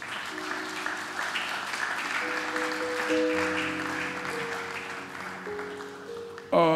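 A church congregation claps and cheers in a steady ovation of moderate loudness, with sustained organ or keyboard chords playing underneath and a sudden louder voice breaking in at the very end.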